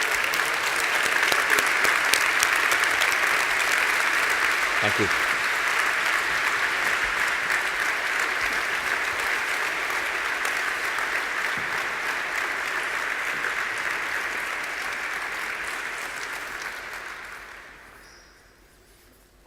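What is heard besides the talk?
applause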